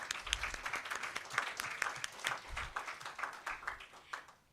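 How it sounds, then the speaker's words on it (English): Audience applause at the close of a conference day in Nairobi, a moderate burst of many hands clapping with scattered sharper claps, steady for a few seconds before tapering off. "Let's have a round of applause."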